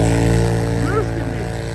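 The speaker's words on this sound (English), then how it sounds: "the quad's struggling to move out here, so that's how bad it is." A quad ATV engine drones steadily as it strains through deep snow in freezing weather, a constant loud hum with a brief rising whine near the end.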